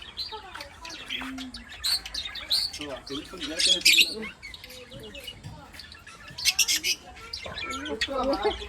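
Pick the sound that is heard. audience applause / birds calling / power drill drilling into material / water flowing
birds calling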